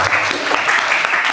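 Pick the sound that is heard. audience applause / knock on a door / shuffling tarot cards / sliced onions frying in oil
audience applause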